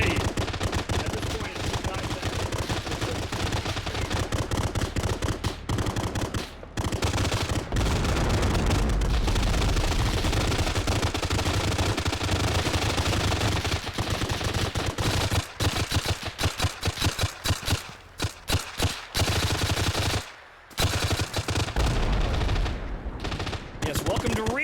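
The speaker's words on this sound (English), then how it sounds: "Something is still shooting me." Sustained heavy gunfire in an Arma 3 battle, dense automatic bursts and overlapping shots pounding loud and close almost without pause, with occasional deeper booms.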